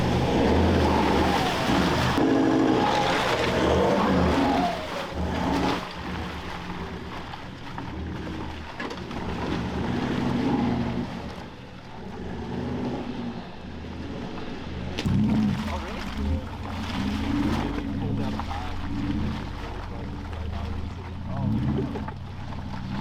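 A 4WD vehicle with a 3-litre engine labours up a greasy, muddy hill in the bush near Kenilworth, a steady loud engine drone rising and falling over the climb, with people talking throughout.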